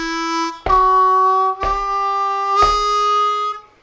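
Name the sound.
harmonica lick played with draw bends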